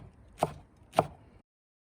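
A knife chops rolled-up leaves on a board in two crisp, evenly spaced strikes, close and clear, followed by silence.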